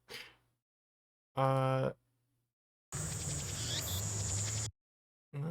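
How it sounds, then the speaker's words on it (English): Cicada buzzing from the Steins;Gate game audio, a dense high-pitched drone lasting nearly two seconds between short bursts of other sound and brief silences, moderately loud. "The cicadas."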